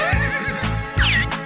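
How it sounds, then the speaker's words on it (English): A horse whinnies loudly and close, a quick rising-and-falling neigh in two bursts with a brief pause between them. "Horse."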